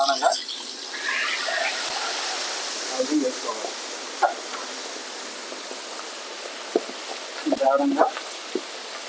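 Pieces of mint tandoori chicken fry in hot oil, giving a steady, dense sizzle with occasional louder crackles and pops, while people talk nearby throughout.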